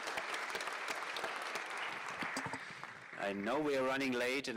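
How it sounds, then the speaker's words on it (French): An audience at a French-language data and information panel applauds a panelist steadily for about three seconds before a voice starts speaking over the last of the clapping. "Nous devons l'applaudir également"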